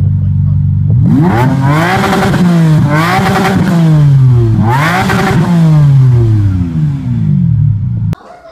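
An old Ferrari engine starts and revs hard in three rising and falling surges, loud and close, then cuts off abruptly.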